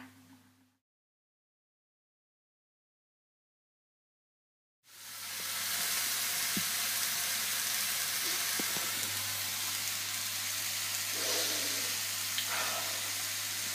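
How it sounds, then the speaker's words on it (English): Cut mushrooms hitting a hot pan and frying, a brief quiet gap then a steady broad sizzle that holds loud and even, with faint pops and a low hum beneath. "Now I've cut my mushrooms up, I'm going to stick them into the pan."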